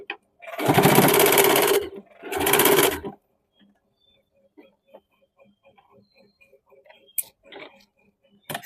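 Sewing machine stitching a blouse sleeve in two short bursts, each a dense mechanical whir of about a second, followed by quiet fabric handling and faint ticks.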